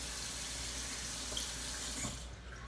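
Water runs steadily into a clear cup set up for cleaning makeup brushes, a continuous trickling and splashing stream that eases off near the end, with no voices.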